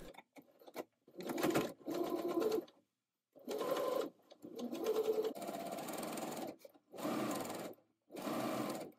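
A sewing machine runs in several bursts of rapid stitching as channels are sewn along a sleeve seam, close and loud, with short pauses between the runs.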